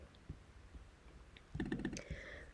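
Keys on a computer keyboard are tapped quietly, with a few scattered clicks first and then a quick close burst of typing toward the end.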